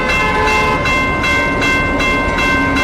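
A train rolls through a railway crossing in Geleen, Limburg, loud and close, with a steady rumble, repeating wheel clatter in regular pulses and a sustained horn-like tone riding over it.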